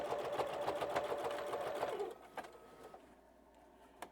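A sewing machine back stitching to finish quilt binding, a close rapid rhythmic whir for about two seconds that then stops, followed by a few soft clicks and quiet handling.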